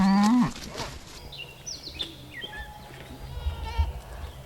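Goats bleat loudly and close by at the start as they are led out to pasture on a farm, followed by quieter rustling, footsteps and faint distant bleats.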